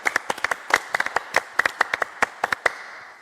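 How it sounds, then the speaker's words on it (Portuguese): Scattered claps from a small group of hands ring out at an irregular pace, sharp and fairly close, then trail off after a few seconds with no voices over them. "Vamos dar uma salva de palmas para o Tarcísio."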